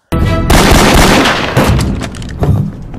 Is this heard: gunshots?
yes